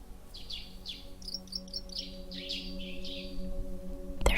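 Several small birds chirp and tweet in short repeated phrases over a steady low hum, ending in a sharp loud click.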